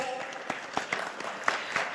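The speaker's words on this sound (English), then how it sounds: "Once again, ladies and gentlemen, a huge round of applause." Applause from an awards audience at the India Business Leader Awards greets a Lifetime Achievement honoree, with scattered distinct claps over a murmuring room and a voice faintly present beneath.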